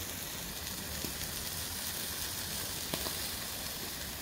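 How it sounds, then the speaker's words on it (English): A steady, dense sizzle hisses throughout as meat cooks on a Weber Go Anywhere charcoal grill, with occasional faint pops and crackles of juices dripping onto hot coals. "let's have a little listen here to this sizzle."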